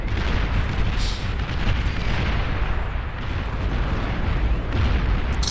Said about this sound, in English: Now watch this bomb split.